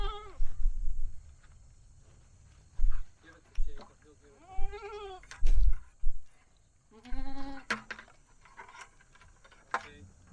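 A goat bleats repeatedly in a farmyard during outdoor hydrant and electrical work, its wavering nasal cries coming close and loud in several bursts over low rumbling background noise.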